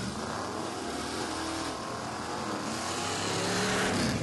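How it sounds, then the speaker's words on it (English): Modified naturally aspirated Ford Mustang drag racing at Heartland Park in Topeka, a loud sustained engine roar that climbs in pitch as it accelerates, heard with broad track noise around it. "Gary Satterley driving his modified, naturally aspirated Ford Mustang"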